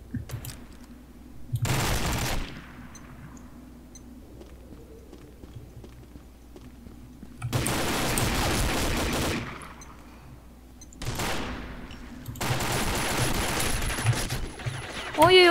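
Bursts of machine-gun fire in the online shooter Combat Arms come in four separate volleys, short then longer, loud and near, with quieter game ambience between them.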